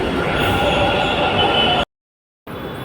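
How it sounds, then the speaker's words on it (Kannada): A metro train pulls into a station in Bengaluru as a steady, loud rumble of wheels and rail with a high whine. The roar stops abruptly and then resumes. "ಮೆಟ್ರೋ ಬಂತು"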